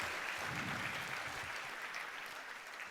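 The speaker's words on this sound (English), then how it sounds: "Ladies and gentlemen, give a huge round of applause for CA Chengal Reddy" Large conference-hall audience of CA students applauding CA Chengal Reddy at an inaugural session, a dense, sustained roar of many hands clapping at moderate distance, steady for the whole stretch and alone without speech.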